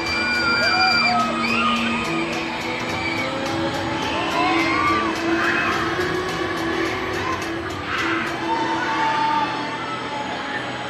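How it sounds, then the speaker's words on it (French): Riders scream and whoop continuously on a tall roller coaster drop at a theme park, a loud sustained crowd of shrieks and yells with ride rumble underneath. "vous avez pas fini de gueuler là"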